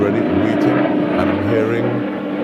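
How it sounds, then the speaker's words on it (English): A helicopter passing overhead, its steady rotor drone and engine hum running continuously under a person talking. "that's actually a helicopter, so I guess that's not the plane as yet"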